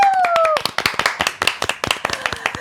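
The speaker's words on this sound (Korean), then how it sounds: "박수로 청합니다" A studio audience on a Korean morning talk show claps in quick, fairly even rhythm after a brief tonal vocal sound at the start, the claps close and crisp.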